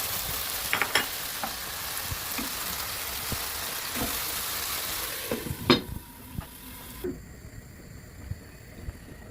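Chicken and mushrooms with tomato paste sizzle in a pot while a spoon stirs with scraping knocks against the sides; the frying hiss drops away sharply near the end.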